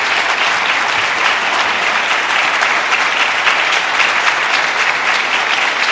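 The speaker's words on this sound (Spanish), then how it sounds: "déles ofrenda de palmas a Jesús" A church congregation claps for Jesus during a sermon by Pastor Néstor Miralda, a loud, even wash of many hands sustained throughout, with no talking over it.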